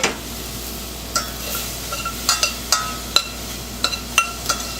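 A spoon stirs seasoned onion through melted butter in a pan, giving soft scraping clicks in a slow irregular rhythm over a faint background hiss, close and fairly quiet.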